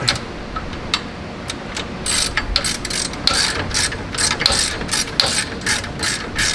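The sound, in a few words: ratchet tightening racecar K-member bolts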